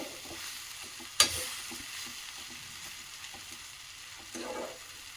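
Okra fries with coriander leaves in a pan, giving a soft, steady sizzle and gentle stirring, with one sharp clank of the utensil early on. The sound is quiet and close, with no talking.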